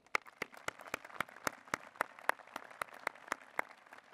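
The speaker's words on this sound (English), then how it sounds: "Join me in giving Gordon another hearty round of applause." A single nearby pair of hands claps in a steady, evenly spaced rhythm at a university presidential inauguration, a dozen or so sharp claps over faint room noise.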